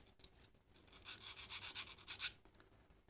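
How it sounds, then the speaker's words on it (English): Faint, rhythmic rasping as a Victorinox Swiss Army knife can opener scrapes along the edge of stiff clamshell plastic packaging, a quick series of short strokes at close range in a quiet room. "Use the can opener and just put a bevel, a knife edge on this part here."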